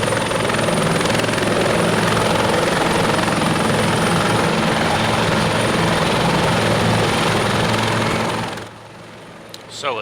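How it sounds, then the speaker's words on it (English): A helicopter in the video game Arma 2, fitted with a custom sound mod, produces a loud, close, steady rotor thrum and turbine roar that holds constant, then drops away sharply near the end. "Just listen to the helicopter, sounds amazing."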